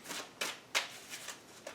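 Tarot cards shuffled by hand in quiet, several crisp riffling bursts a few tenths of a second apart, close and alone.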